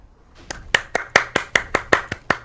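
A single person clapping hands in a steady rhythm, about a dozen crisp, close claps that start softly and settle into an even beat, with no other sound around them.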